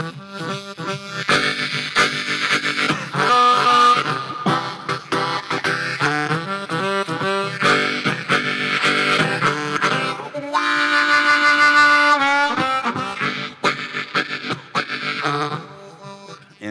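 A blues harmonica played through a distorted amplifier wails in bent, sustained notes and quick choppy phrases, loud and close, with brief pauses between runs.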